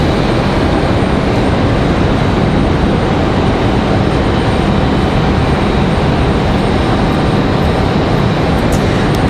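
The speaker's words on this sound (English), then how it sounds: "An A319 arriving from Orlando will be our next arrival." Delta Airbus A319 jet arriving at Raleigh-Durham airport, a loud, steady broadband engine roar heard continuously and close, with no voices.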